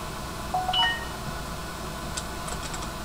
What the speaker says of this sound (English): Yes, that's my phone dinging.